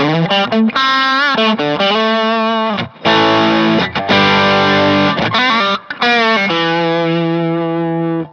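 An electric guitar through a Harley Benton Vintage Overdrive pedal plays crunchy chords and single notes in short phrases, loud and gritty, with brief gaps between bursts.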